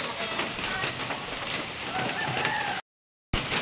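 Steady rain patters on a surface around a piggery on a cold, wet day, a dense continuous hiss with faint bird calls mixed in, broken by a short silent gap near the end.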